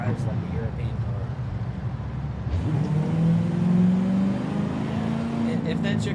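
A Corvette engine in Forza Horizon 5 revs and cruises under steady talk, its tone rising through a smooth acceleration.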